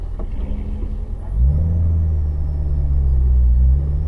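Race car with a deep rumbling engine pulling away to enter a track, idling quietly before a loud low roar rises at about a second and a half and holds close.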